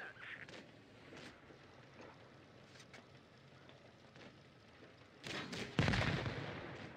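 Tank cannons fire in World of Tanks Blitz: a few muffled distant thuds sound early, then two louder, closer booms with heavy rumbling tails arrive near the end over faint battle ambience.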